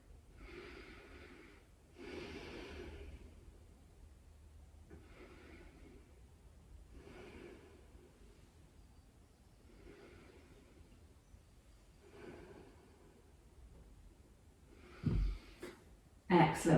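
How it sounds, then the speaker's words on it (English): Slow, deep breaths taken in child's pose during a yoga session, about five long inhale-exhale swells spaced a few seconds apart, soft and close, ending with a couple of brief louder bumps. "have 3 really deep breaths in child's pose"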